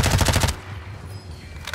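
Rapid automatic gunfire in the video game Warzone, a loud close burst of about eight evenly spaced shots lasting half a second, then fading into low background game ambience.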